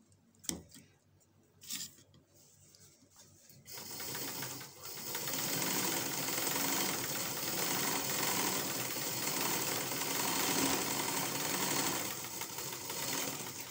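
A sewing machine stitches cord embroidery, with a few knocks and clicks before it starts running, then a long steady close-up motor hum with rapid needle chatter.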